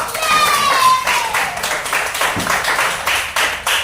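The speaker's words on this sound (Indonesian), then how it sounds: "Ayo tepuk tangan untuk kita semua." Students in an elementary classroom clap together after a science presentation on magnets, a ragged burst of hand claps with voices and a whistling tone over it, fading into scattered claps.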